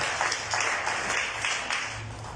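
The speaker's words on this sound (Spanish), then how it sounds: "Denle un fuerte aplauso a mi hermano." Applause from a church congregation during a Spanish-language sermon, a brief burst of many hands clapping at moderate loudness with a steady hum underneath.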